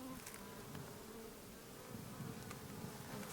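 Honeybees hum in a dense, continuous drone during a backyard hive inspection in the bees' first week, faint and steady with no voices over it.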